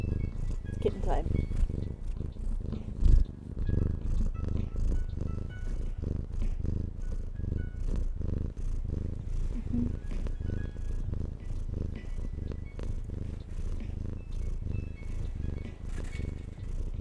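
A kitten purrs steadily and close up for the whole stretch, a low continuous rumble with a faint rhythmic pulse, while a person talks over it.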